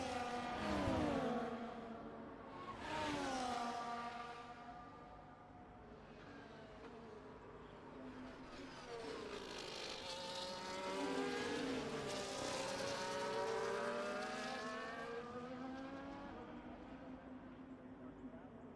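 Race cars lap the Austria circuit in the F1 24 video game, their engines revving and shifting in rising and falling sweeps, heard under continuous commentary.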